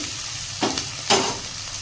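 Onion filling for methi kadubu frying in a pan, with two short bursts of sizzling and stirring about half a second apart, close and moderately loud, with no voices.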